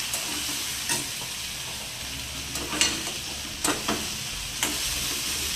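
Manchurian ingredients stir-fried on a full high gas flame, a constant close sizzle broken by repeated sharp spatula knocks and scrapes at irregular intervals, with no speech.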